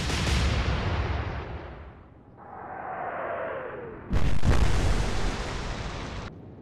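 Big naval guns from a battleship in Atlantic Fleet firing on the Prince of Wales: a long rumbling roar that fades, a whistling shell, then another loud, close blast that rolls on for about two seconds.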